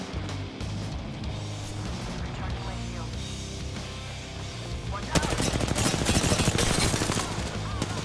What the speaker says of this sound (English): they're firing at you